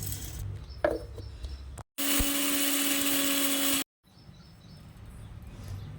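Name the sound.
mixer grinder grinding roasted jowar puffs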